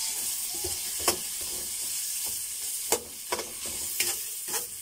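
Onions frying in a pan with a steady low sizzle, broken by several sharp scraping stirs of a utensil against the pan.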